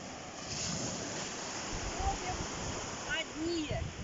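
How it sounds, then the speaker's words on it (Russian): Sea surf washing onto a beach in Side, Turkey, a soft steady wash of waves with wind noise, with brief voices in the background. "Шум прибоя."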